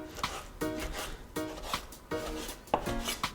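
A knife chops low-sodium bacon into small pieces on a board, five or six distinct, fairly close chopping strokes at a steady rhythm with no talk.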